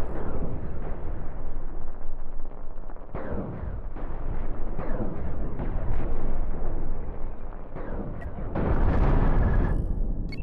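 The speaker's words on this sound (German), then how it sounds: "Bam, da ist er explodiert." Spaceships blowing apart in the space combat game Cosmoteer, a run of loud, booming blasts and rumbling bursts that follow one another over several seconds, ending in a large, heavy explosion.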